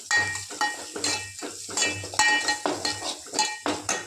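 A spoon stirs ghati masala in a metal cooking pot: about eight rhythmic scraping strokes with clinking metal on metal, close and alone, over a faint sizzle.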